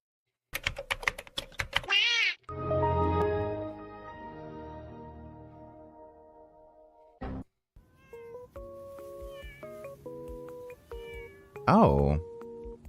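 A cat meows several times, with drawn-out, tonal cries near the start and end, alongside beeping electronic tones and a burst of clicking, clear and close.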